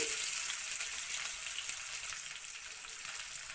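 Chopped onion fries in oil alongside chopped garlic while cooking a Bengali pointed gourd (potol) dish, with a dense, even sizzle that fades slightly over several seconds, heard alone without speech.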